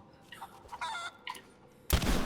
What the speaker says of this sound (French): Poule.